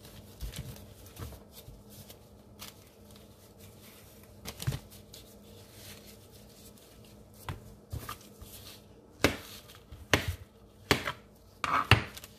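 A knife chops bananas and kale on a cutting board in irregular bursts of sharp knocks, sparse at first and then quicker, clustered strikes toward the end, close and clear with no talking.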